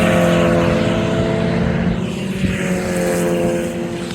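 Cars on a track day at Donington Park, a Mazda MX-5 NC among them, roar past with sustained, loud engine noise and shifting pitch, heard from trackside without voices.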